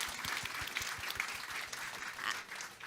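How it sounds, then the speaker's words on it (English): Audience applause at the close of a talk on regional food in Africa, Europe and Asia, steady clapping filling the room for about three seconds. "Please give him a round of applause."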